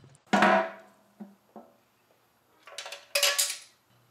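Two broken oil squirter jets rattle and clank inside an engine oil pan, several separate metallic clatters and clinks with short pauses between them, close and fairly loud.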